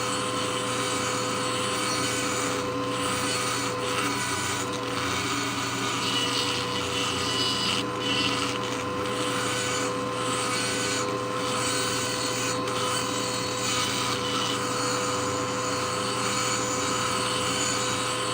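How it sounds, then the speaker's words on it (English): A Dremel rotary tool running: a continuous, loud, steady whine and rasping drone that holds for the whole stretch, with slight grinding variations as it works. "Can you hear me over the sound of the Dremel, or is talking kind of pointless?"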